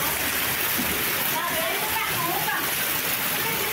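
Heavy rainstorm floodwater pours through the streets of a neighborhood in Guarabira, Brazil, entering houses: a steady, loud, rushing wash of water fills the whole stretch, with voices faintly in the background.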